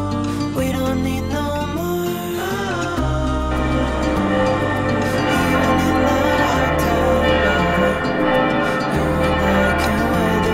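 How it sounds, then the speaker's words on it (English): Church bells ring out at Schlossplatz in Stuttgart, Germany, a loud, dense and continuous peal of overlapping tones lasting the whole stretch, with no voices. "I don't know what's going on because the bells have been just ringing"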